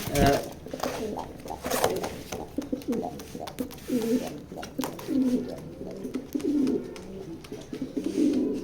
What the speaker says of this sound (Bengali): দুইটা ইয়াং কবুতর